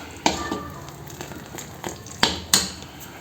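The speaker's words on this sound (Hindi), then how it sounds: "ये देखो गुड़ और हमारा घी अच्छी तरह पक चुका है और मेल्ट हो चुका है।" Jaggery and ghee cooking together in a pan, giving a soft, steady sizzle with a few sharp clinks and scrapes from stirring scattered through it, with no talk.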